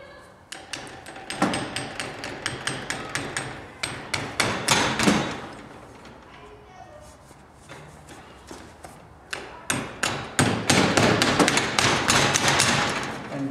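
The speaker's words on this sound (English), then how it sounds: "Take this nail and hammer it from the bottom." Nails are hammered into a garage door insulation panel, bursts of sharp, close metallic hammer blows in quick rhythmic runs separated by quieter pauses with faint handling thuds.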